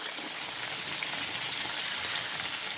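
Chicken frying in hot oil while being lifted out, Jamaican-style fried chicken: a steady, dense crackling sizzle that holds evenly throughout with no voices.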